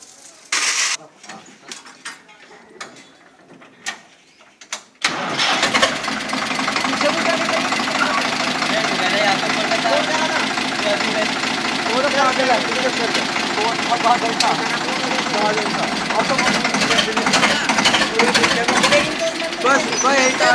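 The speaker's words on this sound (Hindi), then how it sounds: "आइसर 485, बहुत बढ़िया ट्रैक्टर है।" An Eicher 485 tractor diesel engine cranks and catches, then runs with a loud, steady knocking idle; scattered clicks and handling noises precede the start, and voices talk faintly over the running engine.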